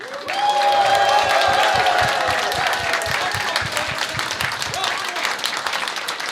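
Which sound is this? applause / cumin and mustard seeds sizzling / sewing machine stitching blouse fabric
applause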